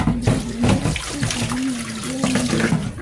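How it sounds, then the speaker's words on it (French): Tap water runs and splashes steadily while grated macabo is rinsed for kouakoukou, a close, continuous gush with uneven sloshing as the gratings are worked under the stream. "Je suis obligée de passer ça à l'eau."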